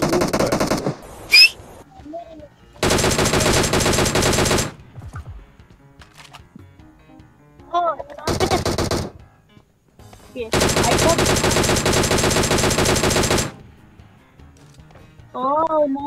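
DP light machine gun firing in PUBG Mobile, with several long sustained automatic bursts separated by pauses, loud and close, while a man and a child chat between bursts.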